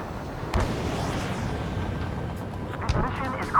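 A missile explosion in the Ace Combat 7 combat flight game: a few dull booms burst out of a dense, continuous rumble of jet and battle noise.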